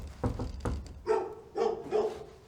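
Dogs barking indoors at a small loudspeaker company's premises: about five short, sharp barks in an uneven rhythm, moderately close and loud, with no talk over them.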